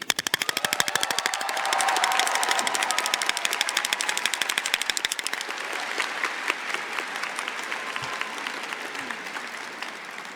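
An audience at a university convocation claps, a dense steady applause from a large crowd that gradually thins and softens toward the end.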